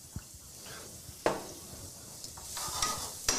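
Garlic, about two cloves, sizzling in a very hot pan while being stirred, a soft steady crackle with scattered scrapes and clinks of a utensil against the pan.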